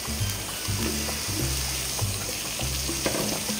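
Chopped kantoli (spiny gourd) goes into a hot frying pan for a vegetable stir-fry, setting off a steady loud sizzle. Rhythmic scraping and stirring knocks from a spatula run through it.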